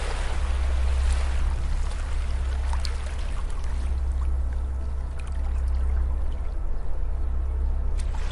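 Gentle beach waves wash in a steady, soft rush of water, a continuous low roar with faint swells and no voices over it.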